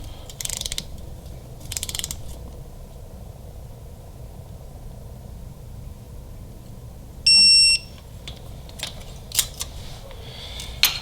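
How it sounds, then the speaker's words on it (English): Torque wrench tightening bolts during a Harley-Davidson Milwaukee-Eight cam install, giving a few short mechanical clicks and ratcheting bursts spread over quiet shop background, with one brief tonal beep in the middle. "Then I'm going to torque these to 100 inch-pounds."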